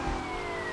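A police car siren from the video game GTA Vice City wails steadily in a short, loud burst with no talking.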